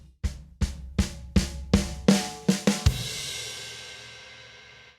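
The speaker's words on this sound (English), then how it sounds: "We're going to create a build, and it sounds something like this." A drum build fill programmed on a Beat Buddy drum machine: eight or nine sharp hits that come closer together as they go, ending in a crash that rings out and slowly fades.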